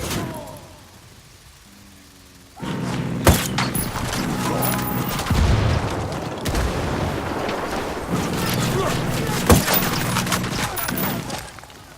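A grenade explosion and gunfire in Ghost Recon Wildlands: after a quiet start, a sudden loud blast gives way to sustained bursts of automatic fire, with sharp cracks and booms continuing throughout.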